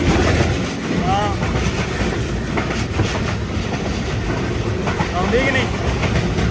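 A passing train on a Pakistani railway line between Okara and Lahore rumbles steadily at close range, with wheel clatter and a few high squeals, while voices talk over it.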